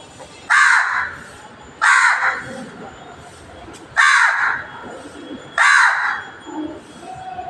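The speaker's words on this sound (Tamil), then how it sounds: "நான் யூடியூப் போடுறப்பலாம் இந்த காக்கா வந்து என்னை பாருங்கள் பக்கத்துலேயே உட்காருது" A crow perched close by indoors, near a sofa, gives four loud, harsh caws spaced about one and a half seconds apart, each call clear against a quiet room.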